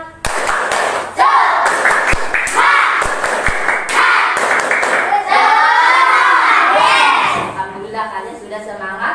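Schoolchildren in a classroom clap a rhythmic spirit clap in quick patterned bursts, then break into loud chanting and cheering voices that carry the clapping to its end.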